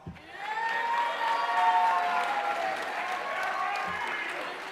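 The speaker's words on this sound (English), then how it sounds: "Give him a round of applause." Audience at a school rhythm concert applauding steadily, with cheering and whoops woven through the dense clapping, loud and sustained for several seconds.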